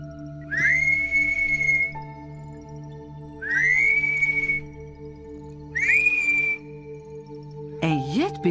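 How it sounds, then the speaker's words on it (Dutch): Three loud, sustained rising whistles, each about a second long and evenly spaced, followed by a short sharp whistle at the end, with a steady hum underneath. "fluit de moine heel luid"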